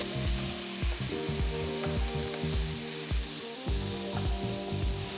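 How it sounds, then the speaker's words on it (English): Roughly chopped ripe tomatoes hit hot fried onions in a pan for dal khichdi tadka, giving a steady loud sizzle with bursts of frying crackle and stirring, no voices. "At this point, I'm going to add the tomatoes."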